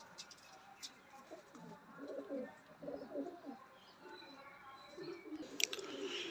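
A young pigeon coos softly and close by in several low, throaty bursts, with faint rustling and a few light clicks around it and no clear speech.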